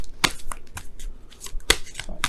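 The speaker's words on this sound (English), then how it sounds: "shuffle" Tarot cards shuffled close up in quick riffling bursts, several crisp flutters spread across the moment with brief pauses between, no one speaking.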